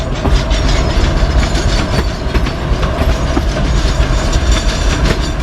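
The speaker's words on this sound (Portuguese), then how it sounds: "O trem tá pesadão. Subindo bem lento." Heavy freight train loaded with limestone powder climbs slowly uphill, wagons rumbling loudly and close with steady clickety-clack of wheels on rail joints and a deep continuous drone.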